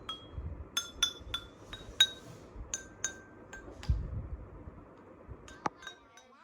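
Homemade water xylophone of glasses filled with coloured water, struck in a quick run of bright clinking notes, then scattered single taps; close and fairly quiet, with no talk.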